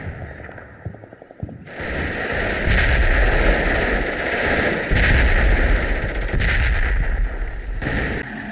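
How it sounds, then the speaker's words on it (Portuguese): Continuous battle noise from the video game Combat Mission Fortress Italy: dense machine-gun bursts and rifle fire with heavy artillery booms, loud and sustained after a short quieter opening, with no talking. "a artilharia americana continua mais intensa e efetiva"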